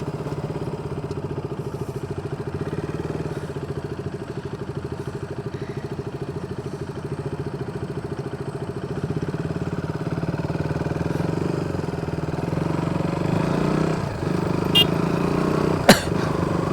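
Steady engine drone of a vehicle being ridden along roads around Batticaloa, Sri Lanka, a continuous mid-pitched hum with wind and road rumble, a faint brief voice near the end.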